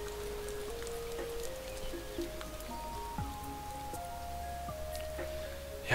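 Rain falls in the camping management game Camping Manager 2012, a soft steady patter under quiet game music with simple melodic notes, no talking.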